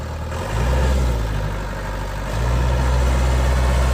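A 2002 Vermeer V5750 tractor's engine running at idle, a loud, close, low diesel rumble that steps up in level twice as the revs lift slightly.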